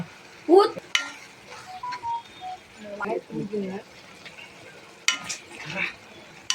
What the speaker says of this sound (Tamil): நல்லா இப்படி கிண்டிக்கலாம்.